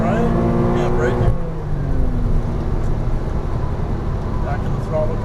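Porsche Cayman R engine pulling hard on a race track, a loud close rising drone with shifting harmonics that drops in pitch and settles into a steady roar, heard with an instructor's voice over it.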